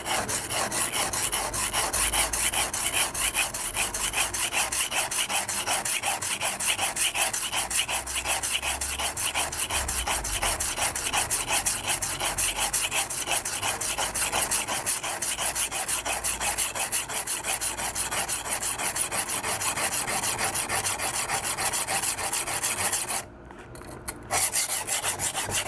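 A kitchen knife with a damaged edge and tip is sharpened freehand, and its tip is ground down. The grinding is a continuous, close, rasping scrape with rapid regular strokes, broken by one brief pause near the end. No voices.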